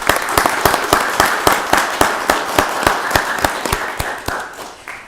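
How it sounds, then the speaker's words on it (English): A crowd at a county board of commissioners voting session applauds steadily, with dense clapping and sharper individual claps standing out, holding for several seconds before beginning to fade. "Let's give them all a round of applause"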